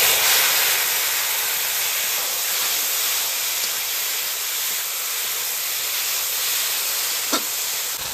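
Green chillies frying in a pan for a hilsa and kochu flower curry give a steady, dense hiss that runs unbroken throughout, with no voices over it.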